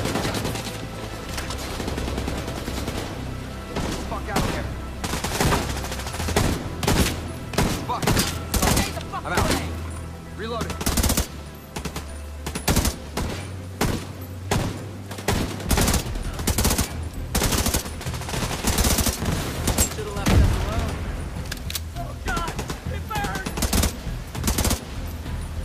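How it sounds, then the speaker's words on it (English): Rapid automatic gunfire and single shots from the video game Tom Clancy's The Division 2 crackle in dense, loud bursts throughout, with occasional booms, while voices shout over the firefight. "Keep firing and take them out!"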